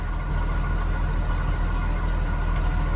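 A bullnose Ford F150 truck's inline-six engine idles at an even, moderate level through a two-muffler exhaust with a slight leak, a steady low rumble with a faint exhaust burble and no voices.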